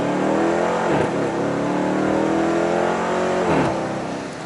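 A 2015 Dodge Charger R/T on 26-inch Forgiato wheels accelerates hard from a standstill, its loud engine roar climbing steadily through two gear changes with brief dips between pulls, heard close and without talk.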